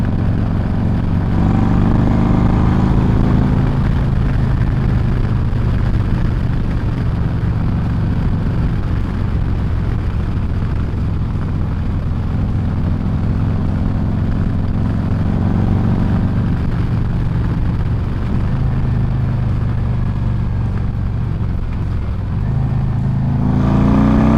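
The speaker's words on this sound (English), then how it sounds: "exhaust is very loud and aggressive." A loud, aggressive exhaust on a 2024 Harley-Davidson Road Glide with a Screamin' Eagle 131 Stage 4 engine roars continuously, deep and rumbling with steady throttle, close and unbroken throughout.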